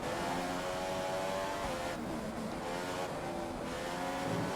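F1 cars race around the Austrian Grand Prix circuit in the F1 2015 video game, a steady loud engine roar with revving and faint tyre squeal, continuous with no talk.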